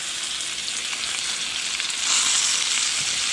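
Brook trout frying in butter in a pan, a steady close sizzle that swells louder partway through, with no talking.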